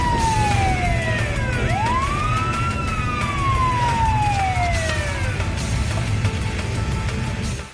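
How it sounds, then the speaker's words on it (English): A police car siren wails close and loud, sweeping up and down in long rising and falling tones over steady traffic noise. "Police car."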